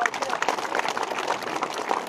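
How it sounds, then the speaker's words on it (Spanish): A crowd applauding at a street paving inauguration in San Miguel, San Ildefonso Ixtahuacán, Huehuetenango: steady, moderately loud clapping from many hands that continues evenly the whole time. "también con un aplauso que Cocodes"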